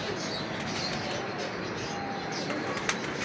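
Breeder's Choi Sahab pigeons coo softly amid continuous background noise, with a faint flutter of wings and a brief knock near the end.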